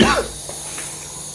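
A single sharp, close cough from a man at home, heard alone at the start and followed by quiet room tone.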